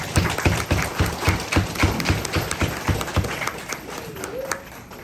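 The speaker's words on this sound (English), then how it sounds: "I think you should all give each other applause for that." Guests at a Hmong New Year appreciation banquet applaud, giving rhythmic, evenly spaced claps in unison at a quick steady beat, loud and close, easing off toward the end with a brief voice at the close.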